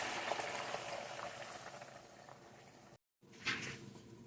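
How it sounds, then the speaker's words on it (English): A steady broadband sizzle of eggs frying in a hot buttered cast iron pan, close and continuous, with a brief gap and then a louder burst of sizzling. "I have my cast iron pan buttered and heated up. We're going to go ahead and get these eggs"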